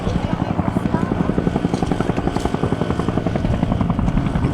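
A Bell UH-1N Twin Huey hovers close by at Fairchild Air Force Base, its rotor beating a fast, even thump-thump that is loud and steady throughout.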